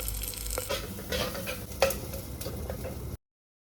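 Onion fries in oil with ginger-garlic paste and green masala, a close, soft sizzle with a few sharp stirring clinks against the pan before it cuts off abruptly.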